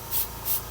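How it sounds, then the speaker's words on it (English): Foaming wheel cleaner sprayed onto a car rim in two short hissing bursts, close and moderately loud, with no talking. "as you spray it, it comes out nice and foamy"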